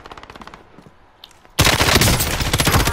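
Gunfire from the video game Call of Duty: Warzone: quieter rapid distant shots patter for a moment, then a loud, dense burst of automatic fire erupts close by and keeps hammering to the end.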